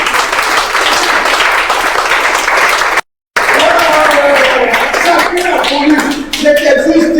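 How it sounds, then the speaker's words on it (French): A church audience at a French-language worship gathering breaks into sustained loud applause and cheering, a dense roar of clapping that drops out briefly and then returns with voices rising over it. "On acclame Jésus."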